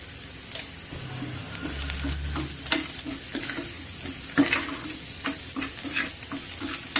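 Asafoetida tempering stirred and fried in a pan for Kannada-style dahi (yogurt) curry, a steady close sizzle with scraping spoon strokes and soft taps throughout, no talking.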